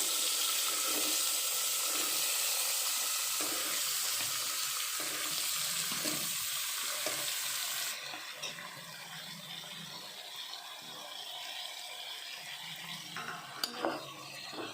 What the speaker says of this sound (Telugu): నూనె కాగనిచ్చి టమాటాలు దాంట్లో వేయాలా ఈ నూనెలో కాగింది ఫ్రెండ్స్ అది ఇవి టమాటాలన్నీ దాంట్లో వేసుకోవాలా